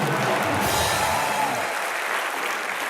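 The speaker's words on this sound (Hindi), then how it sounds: "जोरदार तालियां ठोको यार" Studio audience applause on a comedy talk show, a thick, even clapping that holds steady and then begins to thin out and fade toward the end, with no talking.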